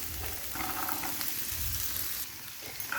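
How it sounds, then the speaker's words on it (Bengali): Carrots frying in oil in a hot nonstick pan, giving a steady close sizzle with stirring noises throughout and a slight drop in level near the end. "গাজরটা ভেজে নিব"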